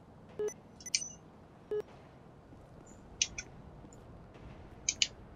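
In-game phone button beeps in the video game GTA V, a scattering of short faint electronic bleeps and clicks in irregular bursts over quiet background noise.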